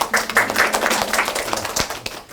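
An audience claps in a lecture hall at an academy information session for incoming high-school freshmen. The claps are scattered and moderately close, uneven and thinning out over a couple of seconds.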